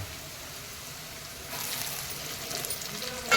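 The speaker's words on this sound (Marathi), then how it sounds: "त्यामध्ये मी दोन तमालपत्र टाकते आणि एक दालचिनी टाकते" Bay leaves and cinnamon drop into onion and garlic already cooking in a pan for village-style mutton, and a soft, low sizzle swells noticeably louder partway through, ending with a small knock.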